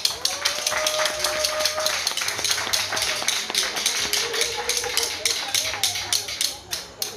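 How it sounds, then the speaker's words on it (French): Audience at a church gathering clapping loudly, a fast dense patter of many hands with some sharper individual claps, while a voice speaks over it. "Applaudissez très fort."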